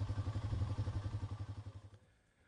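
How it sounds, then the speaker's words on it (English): A motorcycle engine idles with a steady, rapid low thumping pulse that holds for about two seconds and then cuts off, leaving near silence. "push the starter button. Let the engine warm up and the idle to stabilize before riding off"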